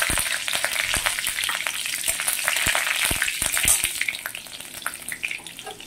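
Green chilies and black cumin sizzle and crackle steadily in hot mustard oil, with bright, continuous frying spatter throughout and no talking.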